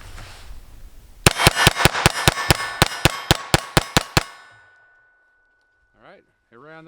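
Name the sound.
Sig P322 pistol firing CCI ammunition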